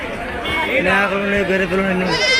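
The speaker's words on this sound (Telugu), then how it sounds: "ఈ పెద్ద సైజు మేకపోతులు బాగానే ఉంటాయి. మంచి మంచి మేకపోతులు వచ్చినాయి." Goats bleat loudly at a goat market in Kunta, Ongole, with one long wavering bleat close by over a busy background of crowd chatter.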